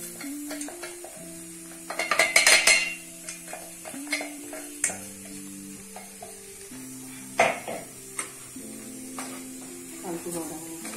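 Powder stirred into fried bitter gourd peel in a pan, with scraping spoon strokes and brief clattery bursts over a soft sizzle, while music-like tones play alongside.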